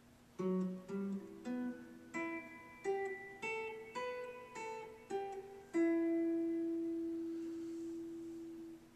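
A clean electric guitar plays the second part of a song's intro, a short rising run of picked notes, ending on a long sustained chord that slowly fades out.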